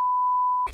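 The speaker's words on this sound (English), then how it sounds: "You cannot answer your phone and press redial." A phone emits one loud, steady electronic beep on pressing redial, holding for over half a second before it cuts off abruptly.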